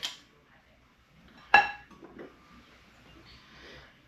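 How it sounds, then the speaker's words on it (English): A serving spoon scoops cooked white rice into a bowl for gumbo, giving one bright clink against the dish followed by softer scraping, close up in a quiet kitchen. "I'm going to take a scoop, bottom of the bowl"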